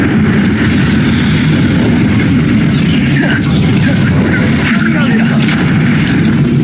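An Incendio fire spell is cast during Hogwarts Legacy combat, a loud dense rumbling roar with booming low end and crackling bursts that runs unbroken throughout, thick and close, under game effects.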